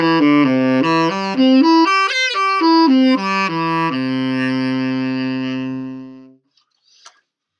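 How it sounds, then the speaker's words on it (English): A tenor saxophone plays a short run of sustained, dark-toned notes stepping up and down, then holds one long low note that fades out, heard solo and close with no talking. "That's the sound of the tenor, and as you can tell, this one has a little bit darker sound."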